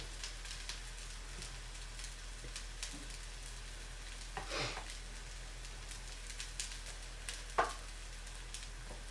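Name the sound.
semolina harcha galettes cooking in pan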